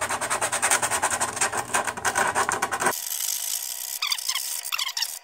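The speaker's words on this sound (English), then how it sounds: "I think I'm gonna sand this down now." A wooden longboard deck is sanded by hand, a steady rasping rub repeating quickly for about three seconds, then stopping, followed by a few short scraping strokes near the end.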